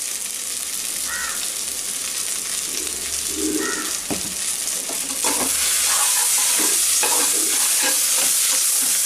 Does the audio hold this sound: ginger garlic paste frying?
yes